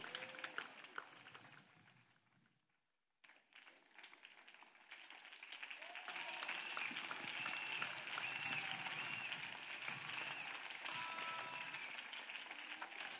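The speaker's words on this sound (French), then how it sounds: "Oui, acclamation à Jésus-Christ." A church congregation applauding and cheering in acclamation of Jesus Christ, dense massed clapping that dips into near silence, then swells back louder and holds steady with cheering tones mixed in.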